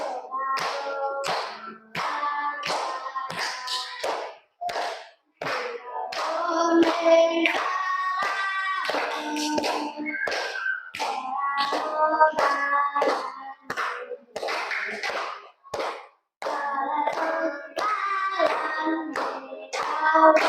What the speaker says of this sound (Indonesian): yang lain tepuk tangan